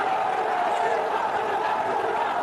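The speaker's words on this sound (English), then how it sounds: "Bangladesh, they've got a raucous crowd cheering them on" A raucous cricket crowd in Sharjah cheers Bangladesh against Afghanistan, a steady, distant roar of many voices sustained throughout without breaks.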